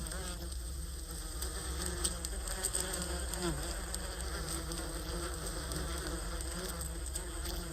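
Several bees buzzing around blooming flowers in a student-made video game, a steady, continuous droning hum with no speech over it.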